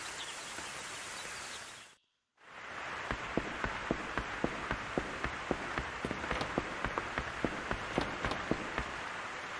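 Rain falls in the video game Rune Factory Frontier, a steady soft hiss with a brief gap of silence near the start, then evenly spaced faint ticks over the continuous wash.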